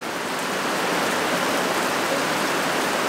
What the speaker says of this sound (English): as you can tell, it's raining